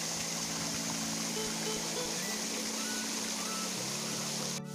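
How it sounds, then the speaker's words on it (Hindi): Kachenga waterfall, also called Kaarbahar, a hidden falls in a village setting, heard from below as a continuous broad roar of falling water, steady and close, with a faint low hum running underneath. "आखिरकार हम लोग इस झरने के नीचे आ गए हैं"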